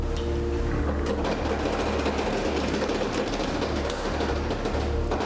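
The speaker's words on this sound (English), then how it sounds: "can we have a drum roll?" A drum roll at a chili cook-off awards announcement rumbles as a fast, continuous, even rattle that holds steady for several seconds at moderate volume.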